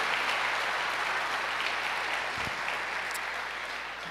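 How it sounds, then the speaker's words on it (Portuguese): A church congregation applauds steadily throughout, a dense, even wash of clapping with no talk. "Aplauda o Senhor por isso"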